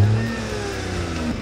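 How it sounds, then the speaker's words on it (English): A Mini Cooper Convertible engine revs up close, a strong low rumble that swells at the start and then holds at a steady idle-like drone through the short stretch. "Give it a bit of a rev."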